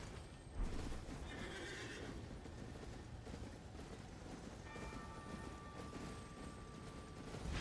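A horse whinnies in Elden Ring over a steady, dense background of game noise, with hooves clip-clopping along; no voices.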